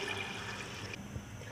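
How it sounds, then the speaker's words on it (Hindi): Water poured into a pressure cooker holding black-eyed peas, a steady close splashing and gushing fill that runs throughout the short stretch at an even level. "अभी मैं पानी डाल दूँगी"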